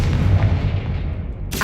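A Confringo spell blast in Hogwarts Legacy lands as a loud, rumbling explosive boom that decays over about a second and a half, followed by a sharp new burst at the end.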